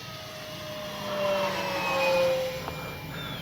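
An FMS Cessna Skylane 182 RC plane with a 1500mm wingspan flies at full speed over a grass field in the evening. Its steady motor whine swells louder as it passes closer midway, then eases slightly, with no talking.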